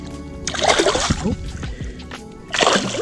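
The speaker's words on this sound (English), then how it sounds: "let's get this guy back in the water" A large bass is released back into a lake, producing a close splash and slosh of water, a second splash following moments later.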